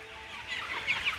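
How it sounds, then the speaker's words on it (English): A hen clucks softly and steadily while being petted, close by, with a few brighter, louder clucks toward the end. "This chicken has never been pet before, and she loves it."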